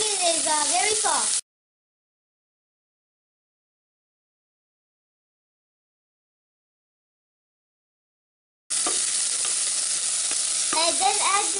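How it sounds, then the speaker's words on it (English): Onions stirred and sizzling in a pan for a vegetable kurma, a soft frying hiss with scraping heard in two short stretches separated by silence. "Then stir it. Cook until onion is very soft."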